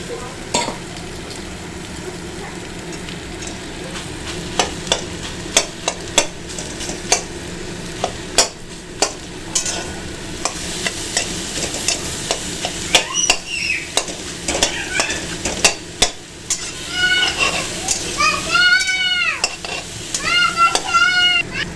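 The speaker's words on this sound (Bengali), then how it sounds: "ডিমটা এরকম ভাজা হয়েছে টমেটোর সাথে। এইবার বেগুনটা দিয়ে দেবো আমি।" Egg frying with tomato in a pan as brinjal goes in, a steady sizzle broken by repeated scraping and clinking of a utensil stirring, with louder hissing bursts near the end.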